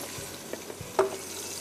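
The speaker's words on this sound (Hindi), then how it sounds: "और उसको हम फ्राई कर रहे हैं" Onion, red chillies, ginger, garlic and a bay leaf fry in a pan, giving a quiet, steady sizzle with a few soft stirring knocks and one brief louder clatter near the end.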